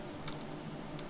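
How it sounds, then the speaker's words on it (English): A few soft, faint clicks of keys being pressed on a computer keyboard while working in ZBrush, spaced irregularly over a low steady hum, with no talk. "you can hit Q on your keyboard"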